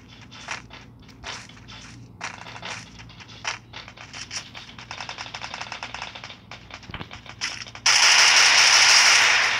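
Gunfire from a video game shooter: a long run of sharp, irregular shots and bursts, fairly close and loud, ending in a sustained bright roar of heavier fire over the last two seconds, with no talk.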